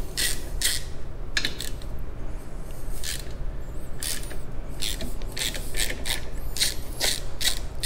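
A quarter-inch bit loosening the bottom fork screws on a Harley-Davidson, heard as repeated short ratcheting clicks and scraping bursts over a steady low hum, close and moderately loud.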